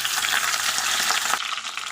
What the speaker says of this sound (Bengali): তেল গরম হয়ে গেছে, এখন মুড়োগুলো দিয়ে দিচ্ছি